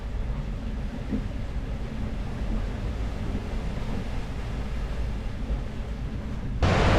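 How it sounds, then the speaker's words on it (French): Wind rising at sea aboard a solo sailboat on a Bermuda-to-France Atlantic crossing, a constant broadband rush with low rumble and hiss, surging louder near the very end. "Alors petit à petit le vent monte"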